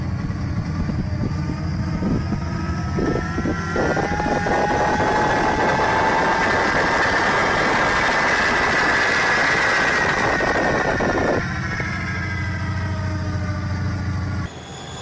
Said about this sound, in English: It looks like a train with a jet engine.